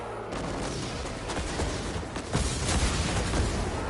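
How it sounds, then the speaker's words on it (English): Heavy cannon fire from a scorch cannon in a PS4 action game, a dense run of booming blasts and rumbling impacts that keeps going for several seconds, loud and continuous, no voices. "Ooh, a scorch cannon!"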